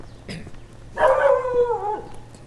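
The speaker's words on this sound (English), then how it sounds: "That's the little brown doggy." A small brown dog lets out a drawn-out, yowling bark-howl lasting about a second, fairly close and loud, after a brief faint yip, over a quiet indoor background.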